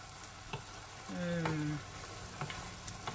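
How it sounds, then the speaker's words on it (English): Seafood paella sizzling steadily in a pan as it is stirred, a soft continuous fry with scraping stir strokes and a brief louder scrape midway, close and alone. "So I'm just going to give it a little mix."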